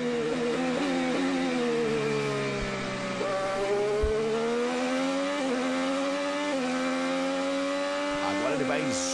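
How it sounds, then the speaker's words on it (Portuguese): Hélio's Chevrolet IndyCar engine screams at high pitch through a street-circuit race in Toronto, rising and falling with gear changes and braking, loud and continuous under a commentator's voice. "Vamos sentir a saúde do motor Chevrolet do Hélio."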